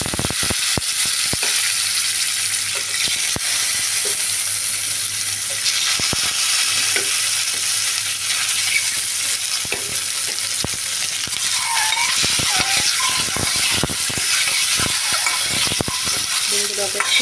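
Eggs fry in the leftover oil from frying potatoes, a loud, dense and continuous sizzle with frequent sharp clacks and scrapes of a spatula stirring in the pan, with no talking.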